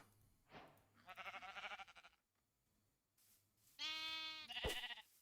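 Repeated close sheep bleats in Minecraft, trembling and nasal, with one sharp thump near the end and a faint hum between calls, no voices.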